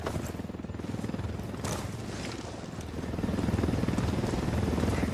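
Helicopter rotor thumping steadily throughout inside a video game battle, a dense low pulsing drone that swells louder toward the end, with faint distant gunfire-like crackle mixed in.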